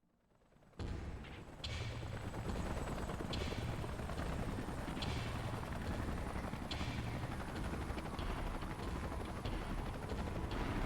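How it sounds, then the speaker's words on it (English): Salvage helicopters arrive in the video game Xenoblade Chronicles X, their rotors rising into a steady loud roar with deep rhythmic thumping that continues throughout, no voices. "Let's call in the salvage choppers and get it out of here."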